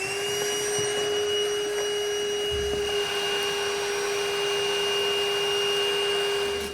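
Vacuum cleaner sucking up metal shards from holes drilled in a 2016 Honda Odyssey roof during a roof rack install, a steady loud close whine running continuously with a few faint rattles of debris and no talking.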